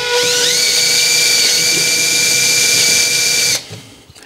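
A machining tool deburring a cylinder head gives a loud, close, high-pitched whine that holds steady for several seconds. The pitch rises briefly, then the whine cuts off abruptly and winds down.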